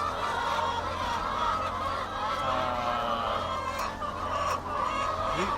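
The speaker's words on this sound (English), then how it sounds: "this is a brown strain of laying hen that we have" Brown strain laying hens cluck and murmur together in a poultry flock, a dense continuous chorus of overlapping calls over a steady low hum from the housing, with no talking.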